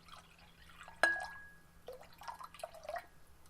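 A drink being poured into a cup, heard as a sharp clink followed by soft trickling and dripping liquid, faint and close, with no one speaking.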